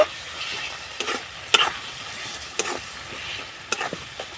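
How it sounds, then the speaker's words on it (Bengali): Spice paste with coriander, chili and turmeric sautéed in a pan: a soft sizzle under repeated sharp spatula scrapes and clinks at irregular intervals, close and fairly loud. "এবার আমি মশলাটা খুব সুন্দর করে কষিয়ে নেব"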